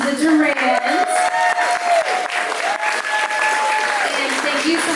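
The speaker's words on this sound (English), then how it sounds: "Just give another beautiful round of applause to the Durans." Wedding guests applaud the Durans, with a full round of clapping mixed with cheers and voices, loud and continuous with small swells throughout.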